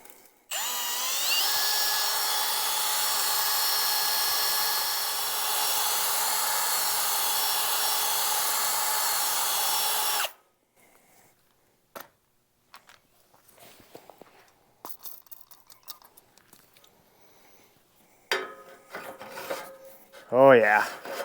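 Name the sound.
hone run through drilled hole to clean edges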